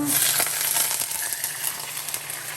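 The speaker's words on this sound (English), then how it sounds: "Beautiful sizzle." Veggie burger sizzles steadily in a hot pan, a dense crackling hiss with small pops, close and fairly loud, with no talking.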